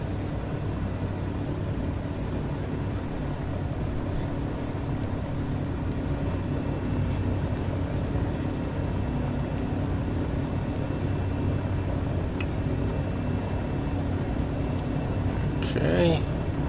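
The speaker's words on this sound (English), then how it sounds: "we got a good engine start" An aircraft engine idling steadily after start in the X-Plane 12 flight simulator: a constant low droning hum holds throughout, with a faint brief voice near the end.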